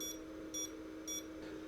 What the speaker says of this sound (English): I think that's 3 short beeps